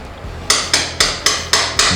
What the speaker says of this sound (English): And I also punch that top shock mount bolt through as well.